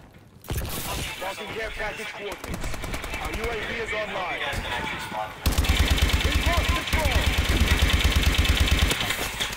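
Rapid automatic gunfire crackles through a frantic online shooter match, bursts growing louder and denser partway through while a player talks over it.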